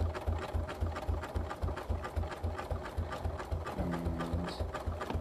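A sewing machine couching wool yarn, with the thread beginning to shred, stitches in a fast, even mechanical rhythm, a steady quiet chatter with a brief tonal whine near the end.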